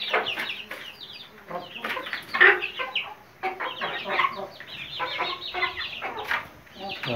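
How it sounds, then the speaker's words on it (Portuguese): Young chicks on a rural smallholding cluck and cheep continuously while feeding, a busy cluster of short calls close by with a few louder bursts, no speech. "vocês vão ver os pintinhos comendo"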